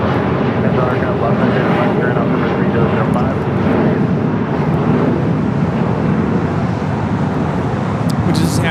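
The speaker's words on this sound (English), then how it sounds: "just had Air France flight 24 touchdown here" An Air France passenger jet touches down at Los Angeles International Airport, its steady roar loud and continuous throughout, mixed with radio chatter and voices.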